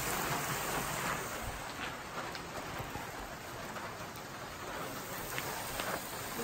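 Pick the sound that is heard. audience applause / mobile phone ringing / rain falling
rain falling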